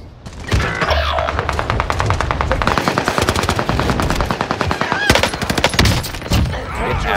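Rapid automatic gunfire from a shooter video game, dense bursts of machine-gun fire crackling almost continuously and loudly for several seconds, with a brief pause before another volley.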